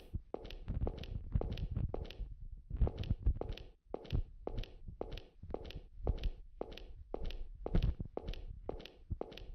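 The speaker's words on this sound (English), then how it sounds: "I heard footsteps." Footsteps in the horror video game The Boogie Man, a steady run of heavy, evenly paced thudding steps, close and distinct, pausing briefly once before resuming in the same rhythm, with no talking.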